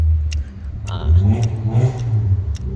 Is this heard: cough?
no